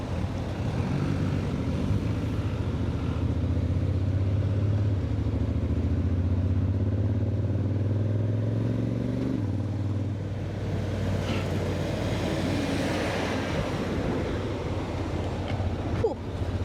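A Honda XADV 750 motorcycle cruises along the road near a toll plaza, its engine droning steadily with a shifting tone and wind rush. The pitch drops midway as it slows, and traffic passes faintly.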